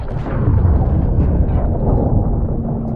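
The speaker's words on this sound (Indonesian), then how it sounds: "senjata itu pun meledak dengan sangat hebat" A deep, rumbling blast rolls on for a few seconds, heavy low booming with crackling texture, loud and close.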